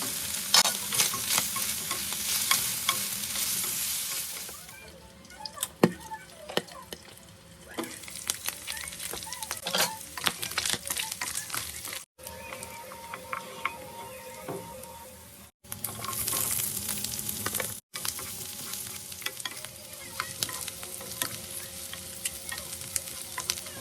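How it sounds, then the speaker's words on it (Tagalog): Pork belly liempo fries in its own rendered fat, a steady close sizzle and crackle with occasional stirring scrapes and a few brief cuts in the sound. "Sunod naman ay isasangkutsin na natin itong liempo. So papalabasin natin yung sariling mantika nito."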